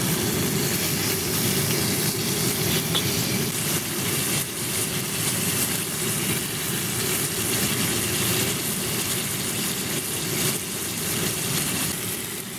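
Water comes to a boil on a camping stove outdoors, with a steady, dense burner roar and bubbling that holds close and even for the whole stretch, with no talking.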